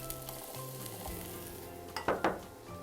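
Onion sizzling in olive oil in a pan, a steady close frying crackle with a few louder bursts of sizzle near the end as more is stirred in.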